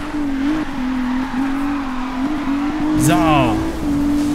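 A car engine in Need for Speed Rivals accelerates with a loud, sustained steady engine drone, then rises in a sweeping rev near the end, while someone talks over it.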